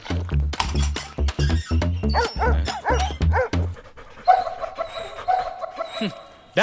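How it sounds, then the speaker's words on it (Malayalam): Close, loud dog barks and yips come in quick succession, followed by whimpering, with voices talking over parts of it. "പട്ടി"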